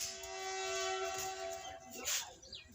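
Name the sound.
train passing at a railway crossing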